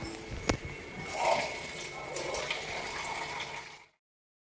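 Water gushes steadily for a few seconds as it is added to a cooking pot, then stops abruptly, leaving silence.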